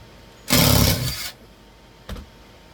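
A power driver runs a screw into drywall during a laptop wall mount install: one loud, steady whirring burst of about a second, then a short second burst of driving, with no talking.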